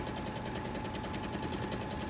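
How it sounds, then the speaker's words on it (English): A sewing machine stitches quilt strips in a quilt-as-you-go block, a steady close mechanical hum with a fast, even needle rhythm running throughout without pause. "And then I'm just going to start sewing."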